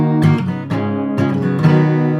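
Acoustic guitar strummed in a down, down, up pattern, bright ringing chords with clear rhythmic strokes, played close and loud with no voice over them.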